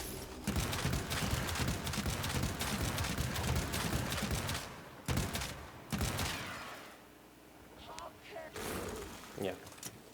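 The Scourge weapon in Warframe fires rapid bursts of projectiles, a dense crackling barrage for about five seconds, then a couple of short bursts and scattered impacts, with game effects continuing faintly afterward.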